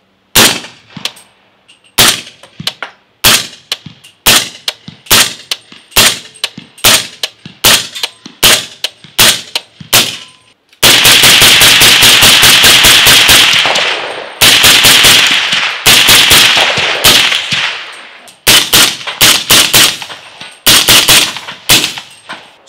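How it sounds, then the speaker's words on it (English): Gunshots from a rifle fitted with a Def Can 3 Ti titanium silencer, fired outdoors: a string of sharp, loud single reports at irregular intervals, then bursts of rapid fire packed closely together, with short pauses between groups. "let's go ahead and roll in some footage of us shooting this silencer out here today"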